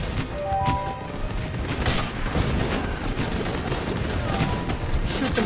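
Rapid gunfire from soldiers in the tactical game Guns Up!, dense overlapping shots and bursts crackling continuously at a loud level, with a player's voice faintly talking over the battle.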